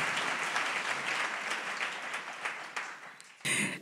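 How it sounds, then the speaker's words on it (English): A church congregation claps and applauds in a dense, sustained wash of hands that fades slightly, then swells again in a final loud burst at the close. "Shall we put our hands together, people of God, for Master Jesus?"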